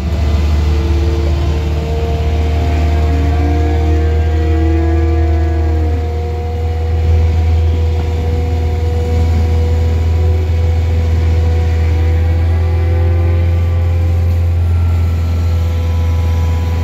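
Skid steer driving into a cow barn for milking on a dairy farm, a loud, steady engine drone with a deep low hum and shifting mechanical whine, close and continuous, no talk.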